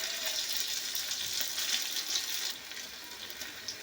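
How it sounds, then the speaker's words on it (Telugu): Onions and curry leaves frying in a pan while tamarind-leaf dal is prepared, giving a steady, close hiss of sizzling oil that holds evenly throughout with no voices. "ఉల్లిపాయలు కొంచెం వేగిన తర్వాత కరివేపాకు వేస్తున్నాను"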